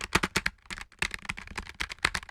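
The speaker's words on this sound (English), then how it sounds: "And you can hear the sound of the keys." Fast, uneven typing on a Logitech G915 tactile mechanical keyboard, recorded with the mic right by the keys, gives crisp, close keystroke clicks in quick bursts with short pauses between them.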